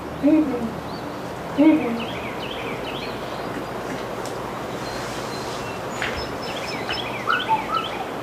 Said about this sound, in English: Now go ahead and listen to those birds out there.